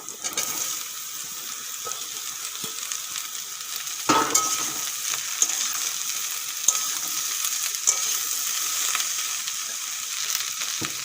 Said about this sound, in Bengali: পেঁয়াজগুলো একটুক্ষণ ভাজার পরে এখন কেটে ধুয়ে রাখা কুশিগুলো দিয়ে দেব